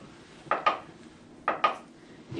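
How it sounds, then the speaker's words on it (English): Two pairs of quick hollow metallic clicks from pressing the lid of a home canning jar whose safety button has not sealed, each press a pop-and-return click, fairly close and alone. "you can hear that the safety seal is up."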